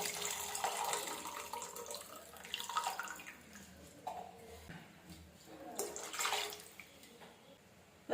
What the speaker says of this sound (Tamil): புளி ஊற வச்சோம்ல அந்த புளி தண்ணியை இது கூட சேர்த்துக்குவோம்.